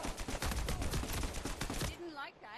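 Rapid automatic gunfire from an online Uncharted 4 multiplayer match crackles in dense, overlapping bursts for about two seconds, then cuts off abruptly, leaving quieter scattered game sounds behind.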